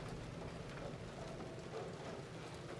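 Steady rainfall in the Silent Hill 2 video game's South Vale Otherworld, a faint, even hiss of rain with a low rumble underneath, continuous with no pauses.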